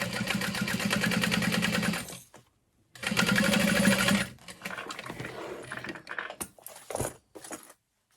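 A sewing machine runs close up in fast, steady bursts as it bastes through thick layers of a bag, stopping and restarting, with light handling clicks between runs.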